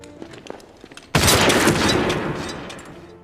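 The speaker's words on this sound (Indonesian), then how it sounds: "Kolikov tertembak headshot oleh Mayor Konik" A World War 2 sniper rifle gunshot from the film Enemy at the Gates cracks loud and sudden after a quiet stretch, then rolls into a long, broad decaying blast of rumble and debris.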